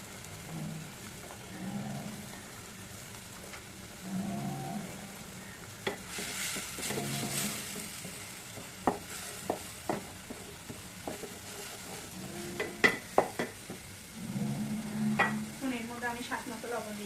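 Spices for a liver curry stirred and fried in a pan, with a low steady sizzle and scattered scraping clicks of the spoon that grow busier toward the end, close and moderately quiet.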